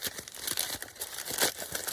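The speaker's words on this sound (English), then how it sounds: "undo it, and then you just keep crumpling" A paper bag being crumpled by hand: close, crisp crinkling and crackling in irregular bursts, short and fairly quiet.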